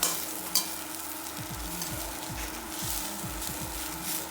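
Bitter gourd sautéing in coconut oil in a pan, a steady soft sizzle with repeated scraping strokes of a stirring spoon, moderately quiet and without talk.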